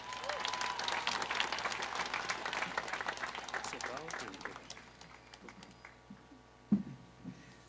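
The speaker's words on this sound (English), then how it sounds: "Let us give her another round of applause." Graduation ceremony audience giving sustained applause that gradually thins and dies out, followed by a few scattered claps and a sharp knock near the end.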